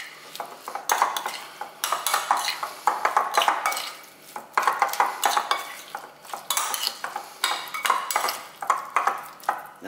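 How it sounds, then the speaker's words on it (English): Fish pakora ingredients with cilantro, chili and garlic-ginger paste are stirred in a bowl, giving steady repeated scraping and clinking of a utensil against the sides in close rhythmic bursts, with no voices. "Let's give that a little mix."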